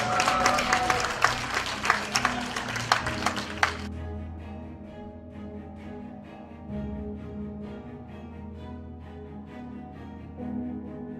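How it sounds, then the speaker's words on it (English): An audience at a Model United Nations conference bursts into loud, dense clapping for about four seconds, then stops abruptly, leaving a quiet hall with a low hum. "a round of applause for Pakistan."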